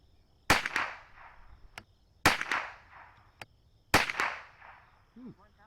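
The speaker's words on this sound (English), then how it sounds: "We got 8 groups of 5, 40 rounds, sending them down range" Three sharp .22LR rifle shots of CCI Blazer 38gr ammunition fired downrange at an outdoor range, evenly spaced about 1.7 seconds apart, each a crisp crack with a short decaying tail; a brief voice sound follows at the end.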